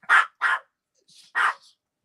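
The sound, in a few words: dog barking in the background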